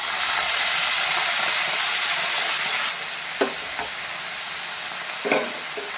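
Prawns simmering in a pan after coconut milk is poured in, a close, even sizzling hiss that softens partway through, with a couple of brief utensil clinks.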